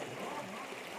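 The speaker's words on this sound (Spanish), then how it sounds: "Estamos por esta quebrada que parece un gran río, quebrada cristalina" A clear mountain stream flowing through a canyon gives off a steady broadband rush of water, continuous and even with no distinct splashes.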